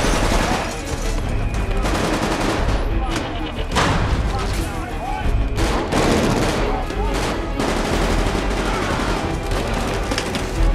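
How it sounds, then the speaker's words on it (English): Rapid machine-gun fire from a film action scene set in Arkham Asylum, a dense, loud, continuous rattle of shots with booming impacts under it, alongside intermittent voices. "A machine gun?"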